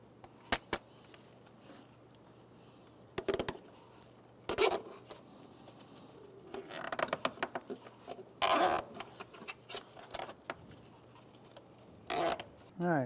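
Plastic zip tie being ratcheted tight around wiring during a starter replacement on a 2011-2016 Hyundai Elantra, several short raspy zipping bursts separated by pauses and faint handling noises.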